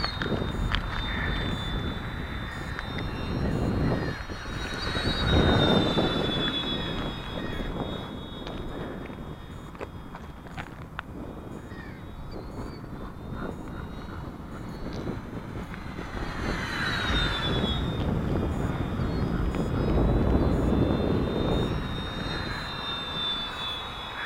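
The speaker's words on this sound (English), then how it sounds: "The new brushless motors are so much quieter than the earlier ones." Whining brushless electric motor of a small Eleven Hobby F8F model airplane on 3S power, its pitch rising and falling as it passes overhead, with wind noise underneath.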